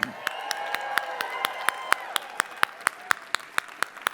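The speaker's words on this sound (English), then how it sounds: "that's the clap you give for a life-shifting insight?" A conference audience at a Growth Day personal-development event claps in a slow, unified rhythm, sharp regular claps roughly every quarter second over a bed of faint scattered clapping and murmur, with a voice heard briefly at the start.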